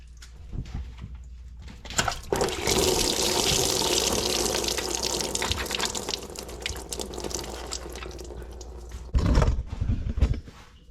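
Steady rush of antifreeze pouring and splashing as it drains from a Honda Civic radiator for several seconds, with a few clanks and bumps near the start and end.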